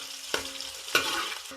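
Chopped ginger, garlic and whole spices sizzling in hot oil in a pan, a steady frying hiss broken by two sharp scraping strokes of a spoon stirring through them, close by with no talk.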